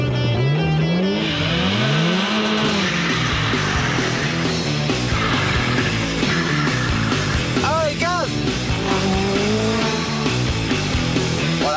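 A Peugeot 405 with a 1.9 litre engine accelerates hard from a race start line, its loud engine climbing steadily through the revs with tire noise over a busy racing backdrop.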